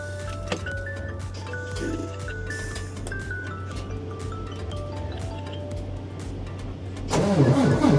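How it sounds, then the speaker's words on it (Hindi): A truck cab on a freezing day of -15 °C holds a repeating alarm melody over a low idling hum, then the truck's engine cranks and catches with a loud, rough burst near the end. "अब हम ट्रक करते हैं स्टार्ट।"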